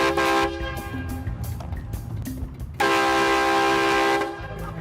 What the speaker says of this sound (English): I've got a bike and I've got a train horn